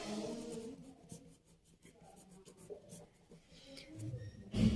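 Marker or chalk scratching across a board during a maths lesson, a close run of short strokes and squeaks with faint room noise, ending in a louder bump.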